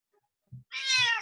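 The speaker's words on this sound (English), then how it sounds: "Here's a Hokkaido cat." A Hokkaido cat gives a single clear, close meow lasting about half a second, preceded by a couple of soft little chirps in an otherwise quiet room.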